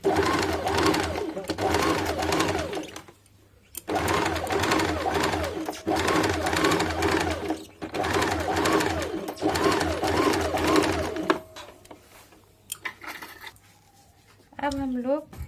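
A sewing machine stitches blouse fabric in several long runs separated by short pauses, steady and close, followed by quieter handling sounds near the end.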